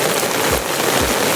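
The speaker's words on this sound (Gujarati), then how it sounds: "અહીંયા વાતાવરણ બહુ શાંતિથી વરસાદ પડી રહ્યો છે." Steady monsoon rain falls on a village near old bricks and scattered wood, a continuous even hiss of drops with a couple of soft low thumps and no talking.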